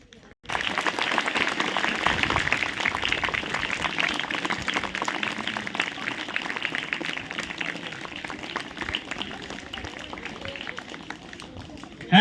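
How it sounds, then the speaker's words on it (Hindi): Loud, sustained applause from an audience clapping in honour of a little girl at a motivational talk, starting abruptly and holding steady as a dense wash of many hands, fading slightly toward the end. "उस बच्ची के सम्मान में इतनी जोरदार ताली बजाइए"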